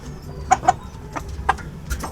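A few short, close clucks from gamefowl chickens feeding on grit pop out over a low background murmur, scattered irregularly across a couple of seconds.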